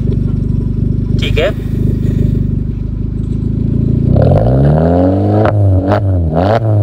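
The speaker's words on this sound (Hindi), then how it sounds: "एक बार यार एग्जॉस्ट की आवाज़ सुन लेते हैं" A modified Maruti Suzuki Ignis with a steel exhaust idles with a deep, rumbling drone, then blips its throttle in a few sharp revs that rise and fall. Someone speaks briefly over the engine.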